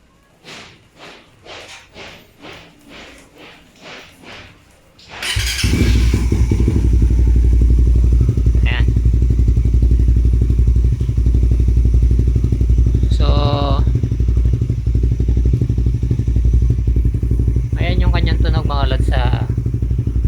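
A Raider 150 Fi motorcycle fitted with a replica Pro GP exhaust idles loud and close, a steady, deep, unbroken drone with a few faint clicks on top. A voice talks briefly before the engine starts.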